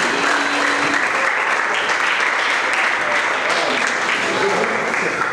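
Audience applause at a charity dinner for orphans, a dense, continuous clapping wash that holds steady and loud throughout.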